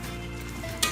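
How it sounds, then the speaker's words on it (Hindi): Sliced capsicum and onion sizzle in a hot kadai for kadai paneer, a steady close hiss with a short sharp scrape right at the end. "यह है फ्राई कैप्सिकम एंड ओनियन"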